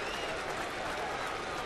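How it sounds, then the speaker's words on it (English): A baseball stadium crowd at a Yankees home game against the Angels in 2009 roars for a strikeout by pitcher Burnett, a steady wash of cheering and clapping that stays distant and fairly faint throughout. "Crowd looking for the strikeout from Burnett."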